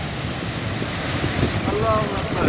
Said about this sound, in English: Now we will see the waterfall just in front of us.